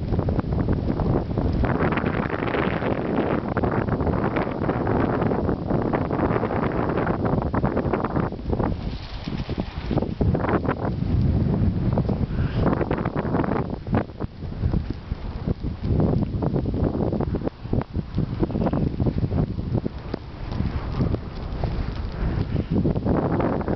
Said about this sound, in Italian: più che altro è il vento che dà un po' l'effetto di una tormenta.